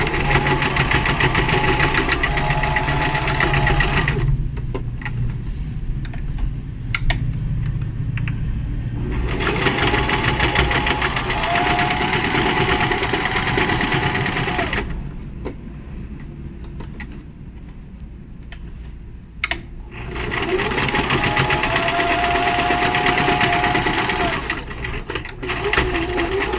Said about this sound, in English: when you're top stitching, you want to make sure that your stitch is as close to the edge as possible.